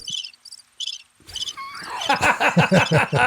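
A cricket chirping sound effect plays as a few short, high, pulsed chirps with gaps between them, followed by louder, warbling, rising-and-falling tones.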